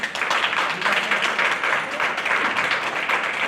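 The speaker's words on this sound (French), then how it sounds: "donc on peut l'applaudir." Steady applause from an audience at a beauty pageant, a dense wash of many hands clapping throughout, fairly close and even in loudness.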